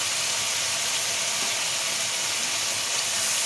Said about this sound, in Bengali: এরপরে আমি দিচ্ছি সর্ষে বাটা